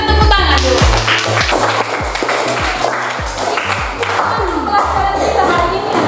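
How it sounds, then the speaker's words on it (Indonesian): Students clap their hands together in a school classroom, a busy rapid patter of many hands mixed with crowd noise and some voices, loud and continuous throughout. "Kita tepuk tangan dulu."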